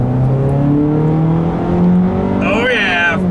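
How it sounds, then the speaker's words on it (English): A Jeep Renegade with a 9-speed automatic accelerates, its engine note climbing steadily from inside the cabin, then a rising whine sweeps upward near the end, loud and close. "I leave you guys with a nice little acceleration here"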